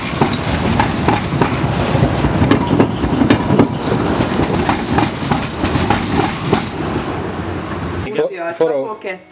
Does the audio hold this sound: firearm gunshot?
no